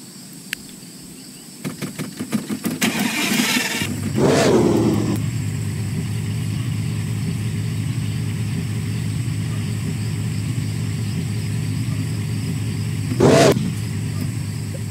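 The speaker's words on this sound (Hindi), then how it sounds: "चलो इंजन तो बंद किया ही नहीं मैंने तो" A car engine in the Car For Sale video game starts up and then hums at a steady, moderately loud idle. A few brief revs or clicks occur near the start and a short swell comes near the end.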